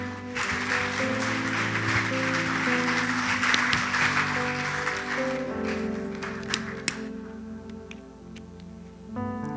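Congregation applauding at a church service, a steady dense wash of clapping across the whole stretch with sustained music tones underneath, fading slightly near the end.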